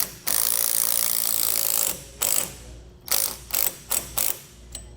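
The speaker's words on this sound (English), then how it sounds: "we're just kind of snugging it up some" A ratchet wrench tightens a nut onto a bolt while a Blue Ox KarGard protective shield is installed on a towed vehicle. A long, steady run of close ratchet clicking gives way to several short bursts, with no talking.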